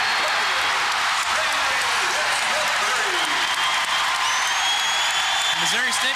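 A basketball crowd in a college arena roars and applauds in a loud, dense, sustained wash of cheering and clapping, with voices rising over the din.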